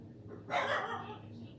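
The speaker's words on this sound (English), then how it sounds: "sorry for the dogs." Dogs in a home, a single short bark or yip that stands out against quiet background noise.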